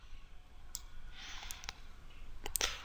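A computer mouse clicks during CAD modelling work. Five or six quiet, crisp single clicks are spaced irregularly over a faint, steady background hum.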